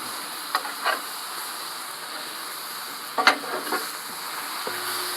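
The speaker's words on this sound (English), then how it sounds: "Now would be a good time to go ahead and just mix it all back together." Mushrooms, onions and potatoes sizzle steadily in a hot skillet while a utensil stirs them, giving a few short scraping clicks over the constant frying hiss, with no talking.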